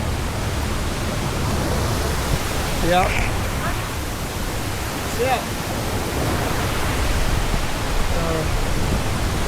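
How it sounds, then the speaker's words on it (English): Steady broadband roar of Savage Falls in Tennessee, heard from the top of the waterfall, loud and constant, with a few brief voices talking over it. "We're on top of the waterfall?"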